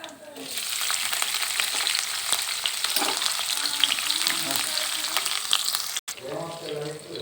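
Onions and tempering spices sizzle loudly in hot oil in a pan, a dense steady crackle with stirring clatter, briefly cutting out near the end before resuming with a voice talking over it.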